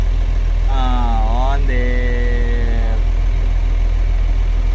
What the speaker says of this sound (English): There's no error and the engine is running.